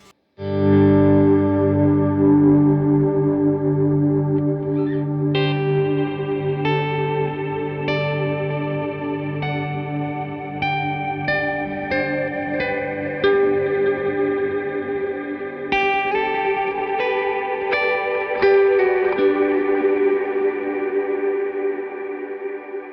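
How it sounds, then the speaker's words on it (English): An electric guitar through a Meris pedal's Prism freeze effect rings out a sustained, shimmering frozen chord that holds and swells while higher plucked notes sparkle on top, drenched in echo and warble. "This is the Prism freeze, and I'm big into that because you can freeze it."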